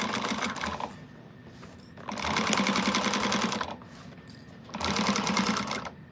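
Sewing machine stitching the bottom of a slouch shoulder bag in two fast bursts of rapid, even needle chatter, separated by quieter pauses.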